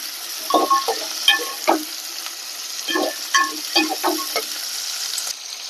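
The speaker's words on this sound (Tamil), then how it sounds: "இதை நம்ம சேர்த்து வதக்கிக்கலாம்." Garlic, ginger and tomato sautéed in a pan, with a spoon scraping and stirring in short bursts over a steady soft sizzle, close and fairly loud, no voices.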